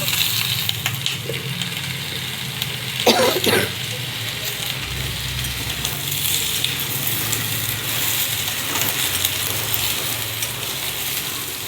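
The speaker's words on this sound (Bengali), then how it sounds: "আলুটা একটু ভেজে নিয়েছি এবারে দিয়ে দেবো সিম সিমগুলো দিয়েও একটু ভেজে নেব" Flat beans and potatoes fry in a pan, a steady close sizzle and crackle throughout, with a brief clattering stir partway through and a voice in the background.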